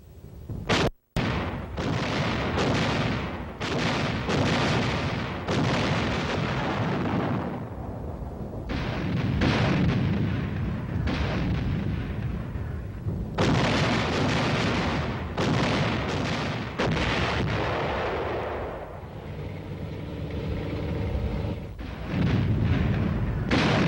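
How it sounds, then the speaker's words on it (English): Field artillery guns firing in a series of loud booming blasts, one after another, with rolling reverberation and a sustained rumble between shots, no talk. "Let's watch the story of artillery in action."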